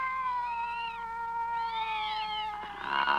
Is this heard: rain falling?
no